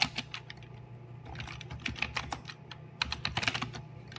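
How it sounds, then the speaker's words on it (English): Close computer keyboard typing as a command is entered, bursts of quick key taps with short pauses between, over a low steady hum. "So for this I will type cd and name of my project."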